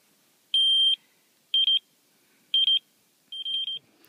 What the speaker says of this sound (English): It's a very annoying beep, isn't it